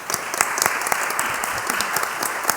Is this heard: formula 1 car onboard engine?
no